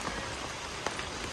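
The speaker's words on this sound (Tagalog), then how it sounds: "Gusto yung malakas na ulan" Heavy rain pours down in Panglao, Bohol, a dense, steady hiss of drops striking surfaces, close and continuous with no voices.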